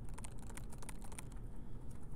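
Fast, steady clicking of computer keys as someone types on a keyboard to move around a lane-avoid game. The rattle of keystrokes is close and continuous, with no voices.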